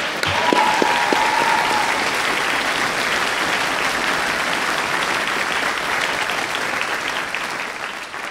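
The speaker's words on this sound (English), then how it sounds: "I would ask you to join in applaud for them too." Steady, sustained applause fills a University of Aberdeen winter graduation ceremony, a large audience clapping evenly throughout with no break.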